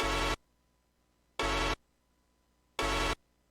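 A bright, full-spectrum synth saw pad sounds in three short, loud, evenly spaced bursts of about a third of a second each, with silence between them.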